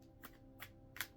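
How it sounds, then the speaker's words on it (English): Tarot cards are shuffled in three quick, close riffling bursts spaced evenly across about a second, crisp and fairly soft with no speech. "I'm going to start shuffling."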